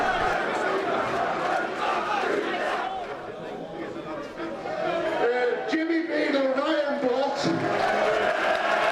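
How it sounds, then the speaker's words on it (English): Large football crowd cheering loudly and continuously at a Northern Premier League play-off final between Scarborough and Warrington, a dense roar with shouts that dips briefly midway before swelling again, with voices mixed throughout. "Massive cheer for the coaching staff"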